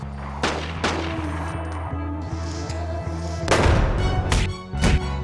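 Gunfire in the video game The Getaway: Black Monday, several loud, sharp shots and heavier bursts cutting through a steady low mechanical drone with regular ticking pulses.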